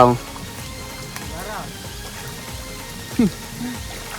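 Steady rain patters on surfaces outdoors at night in the Raigad countryside, an even moderate hiss with a brief voice and a few short knocks over it.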